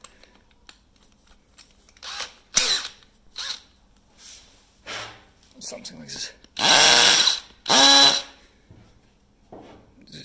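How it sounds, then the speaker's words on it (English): A hammer drill set to high speed and hammer mode makes two loud, grinding bursts boring into concrete, each lasting under a second, with a person speaking briefly beforehand. "you need the drill, make sure it's high speed, and if you have hammer mode"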